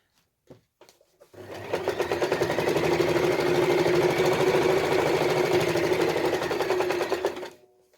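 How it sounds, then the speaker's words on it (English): Sewing machine stitching around a padded bottle gift bag: a few handling clicks, then a steady, fast mechanical whirring hum that runs unbroken for about six seconds before winding down and stopping. "And just sew all the way around."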